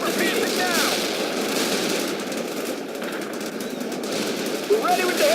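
Armor-piercing gunfire from a Bradley in the video game World in Conflict, a sustained, dense rattle of rapid shots mixed with battle noise that stays loud for several seconds, with faint radio-style voices under it.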